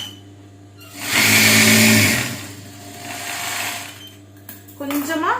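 A normal tailoring sewing machine stitches the folded edge of blouse fabric in two bursts of rapid whirring, a loud run followed by a softer one, and then a voice speaks briefly at the end.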